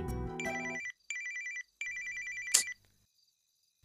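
A telephone rings in an office in short repeated electronic bursts separated by brief gaps, fairly close and clear, ending abruptly.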